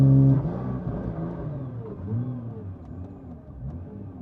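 A Nissan R35 GTR running a Motec M150 launch mode, engine held near 2,900 RPM after a sharp opening burst, a steady low droning rev that wavers slightly and tapers off.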